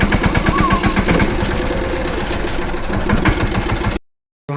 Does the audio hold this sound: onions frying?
no